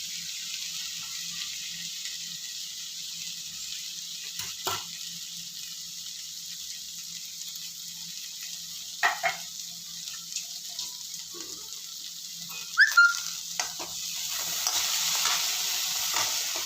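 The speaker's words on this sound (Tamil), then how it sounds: "நல்லா வதக்கிக்கலாம்." Peanut sundal with green chilli, salt and grated coconut being sautéed in a pan, giving a steady soft sizzle with occasional scraping stir strokes and clinks, close and fairly quiet, no talking.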